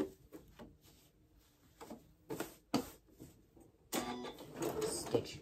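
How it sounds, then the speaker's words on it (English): Sewing machine stitching the seam of pajama pants, faint ticking stitches in short bursts that stop and start, then a louder, steadier run of stitching near the end. "Come down to your next part, right where that dot is, and sew your 5/8."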